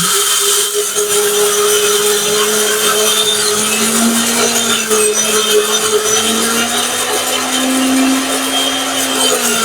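A powerful electric grinder runs continuously at high speed grinding lentils, a loud steady whine with a wavering motor pitch that holds unbroken throughout.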